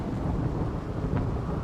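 Rain and thunder in the video game RimWorld, a steady dense hiss of rainfall over a deep continuous rumble, loud and even throughout with no talk.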